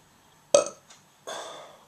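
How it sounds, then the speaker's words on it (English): Two distinct burps, a sharp loud one followed after a brief pause by a longer, rougher one, close and clear against a quiet background. "We got that burping."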